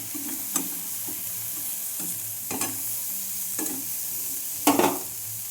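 Shrimp stir-fried with mashed bean paste, cooked until the water has dried off, gives a faint, steady sizzle in the pan. A spatula scrapes and knocks now and then, with one louder clatter near the end and no voices.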